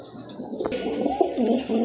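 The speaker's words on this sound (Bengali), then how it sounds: "আরেক জোড়া কবুতর রেসার কবুতর" Racing pigeons coo close by in a steady, throaty, rolling burble that continues without a break, with faint background noise.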